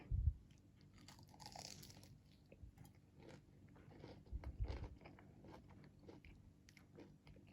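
Someone bites into a crispy zucchini stick cooked in a Ninja Foodi Deluxe, giving a soft crunch and then quiet chewing, close and faint, with no talking.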